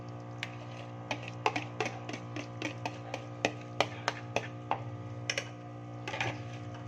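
Beaten egg being mixed into fried potatoes in a pan, heard as a string of light, quick spatula taps and clicks against the pan, soft and close, above a steady low hum.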